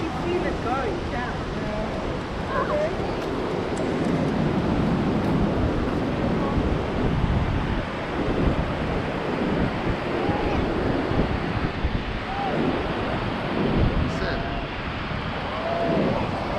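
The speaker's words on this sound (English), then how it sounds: "Maybe the heavy waves." Heavy ocean surf and gusting wind at Costa da Caparica beach in Portugal, a continuous loud roar with wind buffeting the microphone while people talk nearby.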